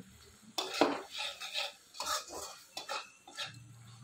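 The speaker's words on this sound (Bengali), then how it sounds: "দেখো বন্ধুরা, তেল ছেড়ে দিয়েছে মশলা দিয়ে ভালো করে মাখবো।" A utensil scrapes and stirs spices into oil and tomatoes in a pan, in several short, close scraping strokes with a faint sizzle between them and no talking.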